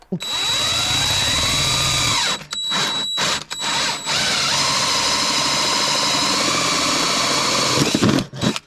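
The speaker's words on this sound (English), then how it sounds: "You can now use an auger bit to make your center hole for the cable to go through." A power drill with an auger bit whirs loudly as it bores into wood, briefly stopping and restarting in short bursts before grinding on steadily.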